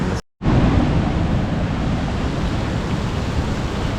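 A waterfall in the Gisborne District gives a steady, broad rush of falling water that is loud and continuous after a brief dropout at the start, with some wind buffeting mixed in.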